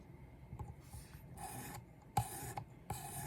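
A knife blade is stroked across a Work Sharp Precision Adjust sharpener while the angle is tested, giving several short, raspy filing strokes close up, spaced irregularly with one sharper scrape midway.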